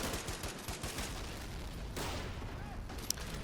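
Gunfire and mortar fire in the video game Men of War Assault Squad, a Soviet beach assault in Manchuria, with continuous crackling volleys and dull thumps at moderate distance under a steady battle din.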